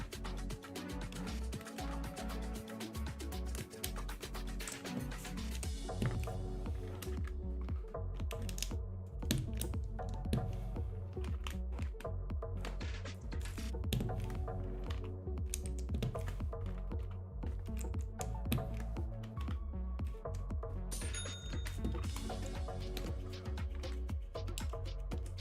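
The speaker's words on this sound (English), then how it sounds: "I'm gonna put these keycaps on there quickly" Keycaps being pressed onto a Kraze65 keyboard, a dense run of close plastic clicks and snaps continuing steadily throughout, with no talking.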